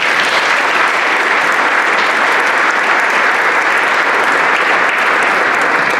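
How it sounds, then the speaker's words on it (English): An audience at a hall of fame induction ceremony applauds steadily, a dense, loud wash of clapping from a large crowd that holds without pause for six seconds. "Go ahead, give us a clap for Maggie."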